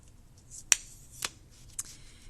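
A fettling knife slices through a clay slab on a hard surface in three short, crisp cuts spaced about half a second apart, close and isolated over quiet background.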